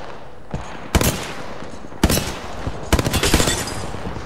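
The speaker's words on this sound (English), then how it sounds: "She literally has no idea where those shots are coming from" Bursts of gunfire in a shooter video game, with separate sharp shots followed by a dense cluster of rapid shots near the end, all over a steady game background.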